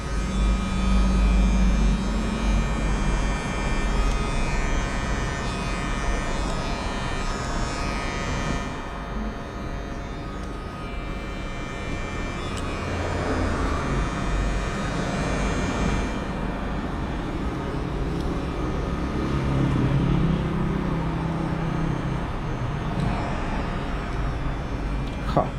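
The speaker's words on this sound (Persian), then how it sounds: "به راحتی میام با کورنر ماشین میرم تو دل مو و قشنگ با قسمت کورنر میتونم لکه گیریم رو انجام بدم" A hair clipper, the Tomb46 Absolute Monster, runs continuously while cutting into hair with its corner edge, a steady loud close buzz and hum throughout, slightly varying as the blade moves through the hair.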